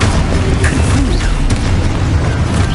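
A fiery Confringo spell explodes in the video game Hogwarts Legacy, a loud continuous rumbling boom with crackling bursts layered over dense low-end roar.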